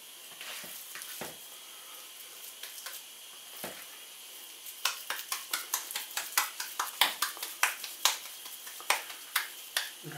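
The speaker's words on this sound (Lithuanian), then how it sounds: "ir dedam į kaitintą keptuvę." A schnitzel patty fries in oil in a hot pan, with a soft steady sizzle and then a run of quick sharp crackles and pops, close and fairly quiet.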